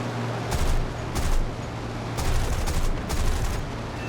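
P-39N Airacobra guns in War Thunder, several bursts of rapid automatic fire over a steady engine drone, loud and close.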